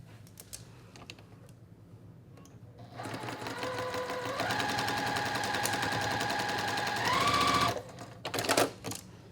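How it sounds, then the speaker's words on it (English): An electric sewing machine stitches along a quilt-block seam, starting slow and then running in a fast, steady mechanical whir with rapid needle clatter before stopping, followed by a couple of short bursts. "Pin, and then I'm gonna sew along that seam."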